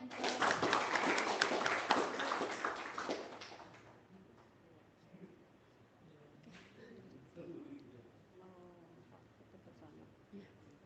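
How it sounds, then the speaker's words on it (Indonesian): An audience applauds after a talk, a dense burst of clapping for about four seconds that fades out, followed by quiet room sounds with faint speech. "Oke, tepuk tangan semuanya."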